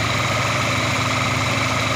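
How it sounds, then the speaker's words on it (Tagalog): Honda Civic VTi with an automatic transmission idling, a steady low engine hum that is even and continuous, close by, with no one talking. "napakatahimik po ng makina mga bossing"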